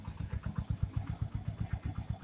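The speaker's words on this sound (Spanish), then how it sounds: "aquí estamos calentando esta moto" A Honda Eco Deluxe motorcycle warming up at idle, its engine putting out a steady, close, low-pitched rapid putter with an even, slightly uneven pulsing rhythm and no voices.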